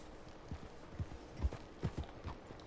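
Horse hooves clip-clop at a slow walking pace in a video game, a few soft thuds spaced irregularly against a faint background hiss.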